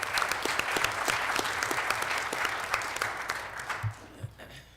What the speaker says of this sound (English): let's give a round of applause to our mayor for the fantastic job he's been doing for our city